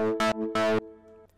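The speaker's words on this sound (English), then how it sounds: "Made a little pluck sound" A synth pluck built in Sylenth within FL Studio plays two short, bright harmonic notes in quick succession, then a faint lingering tail.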